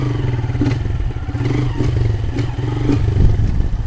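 A motorcycle engine idling and revving steadily, close and loud, with a low rumble and some clattering throughout.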